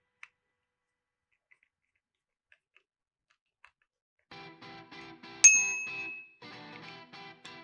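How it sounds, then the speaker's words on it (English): A bell fitted to the handlebar of a Pedal Uptown Cruiser bicycle, a single bright ding that rings out and decays after a short rattle of handling, with a few faint clicks and near silence before it. "make sure that the bell is securely attached as well."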